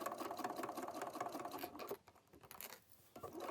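A sewing machine stitches in the ditch around a two-color quilt binding, producing a rapid, close mechanical patter that briefly pauses midway before resuming.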